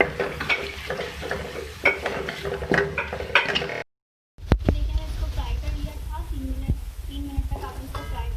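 Cumin and turmeric powder frying in oil with potato and eggplant, giving a close crackling sizzle with scraping and stirring against the pan. A voice talks over it, and the sound drops out briefly midway.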